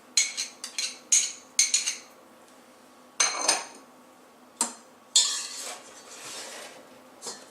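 A spoon stirs yogurt, vinegar and oil in a bowl, giving sharp clinks and scrapes in quick bursts, then a few separated knocks and a longer scraping stir, close and clear with no talking.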